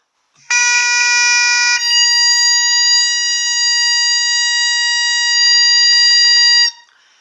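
A piercing, steady high reed tone with bright overtones sounds alone, briefly shifting pitch at the start, then holding for several seconds before stopping.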